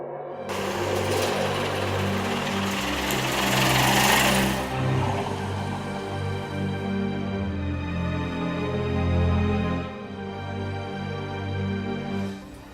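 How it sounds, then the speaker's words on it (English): Bentleys racing on the Silverstone circuit at a Bentley Drivers Club meeting make a steady, buzzing engine drone with strong harmonic tones, swelling louder twice as cars pass before easing off, with no voices over it. "100 or so Bentleys all out on the track"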